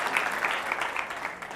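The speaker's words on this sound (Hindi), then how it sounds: "कर दो यार, तालियां मार दो मेरे लिए" An audience in a talk hall claps together in a steady, moderately loud burst of dense applause that holds evenly and tapers slightly at the end.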